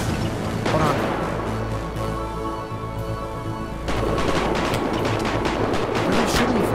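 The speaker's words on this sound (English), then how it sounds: "Where are they shooting me from?" Gunfire rattles through a GTA 5 roleplay session, with dense bursts of shots and crashes over a continuous noisy game soundscape, some of it distant, beneath a player's talking.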